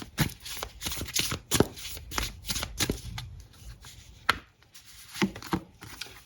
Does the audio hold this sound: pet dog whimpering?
no